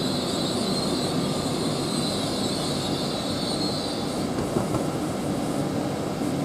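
A Class 800 train pulls out of Grantham railway station with a steady, loud engine drone and a broad rushing rumble, accompanied by a high whine that fades partway through.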